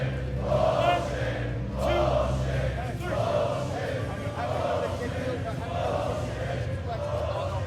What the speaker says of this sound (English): The crowd is not happy with this.